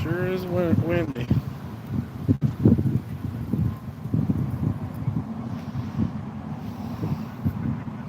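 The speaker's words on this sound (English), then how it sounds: "Sure is windy." Strong wind buffeting the microphone with low, rumbling gusts that rise and fall across the whole stretch, heavy and close, while someone talks briefly at the start.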